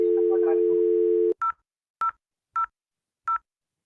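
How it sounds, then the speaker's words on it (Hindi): Telephone number being dialed with DTMF keypad tones: a steady dial tone for about a second, then four short separate beeps at uneven spacing, loud and clean. "और ये नंबर डायल करूँ"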